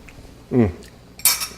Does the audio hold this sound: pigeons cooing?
no